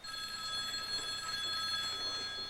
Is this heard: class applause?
no